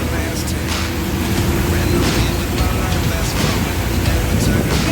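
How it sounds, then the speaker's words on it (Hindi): Heavy storm rain pelts a moving vehicle, a loud, dense, unbroken roar of drumming water and wind noise close to the microphone that holds steady throughout. "तूफानी बारिश है, तूफानी।"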